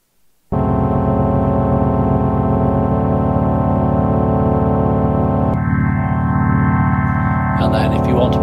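A sustained organ chord from a Halion 6 virtual instrument with cabinet simulator effect drones loudly, its tone shifting partway through as the timbre changes, with a slight pulsing wobble and no voices.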